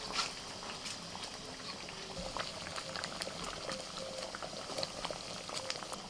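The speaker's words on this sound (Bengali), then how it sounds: "গ্রেভিটা ফুটছে, এবার ভাজা মাছগুলো দিয়ে দিচ্ছি।" Fish curry gravy bubbles steadily in a pot, a dense stream of small popping bursts and simmering gurgles, close and continuous with no speech.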